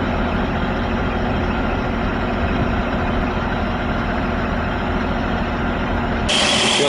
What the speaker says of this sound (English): Engine's warming up, got a little smoke